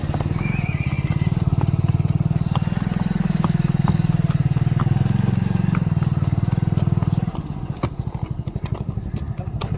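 A mare on a farm neighs loudly and close by while her hooves clip-clop in a steady rhythm, the hoofbeats growing sharper and more distinct toward the end.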